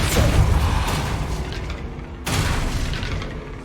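Confringo spell explosions in the video game Hogwarts Legacy, two booming blasts a couple of seconds apart, loud and close with rumbling tails, no voices.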